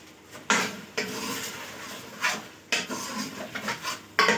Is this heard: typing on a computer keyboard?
no